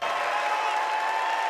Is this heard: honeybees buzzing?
no